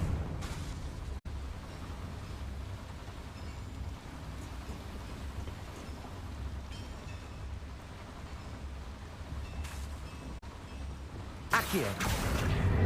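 Confringo explosive spell blast in a video game, a sudden loud burst near the end that cuts through a steady rain-like wash of background noise.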